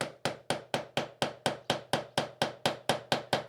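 Sharp metallic hammer strikes on a screwdriver, working on a Triumph Sprint ST 955i motorcycle, landing in a steady, even rhythm, about fifteen blows in quick succession, each with a brief ringing decay, with no talking.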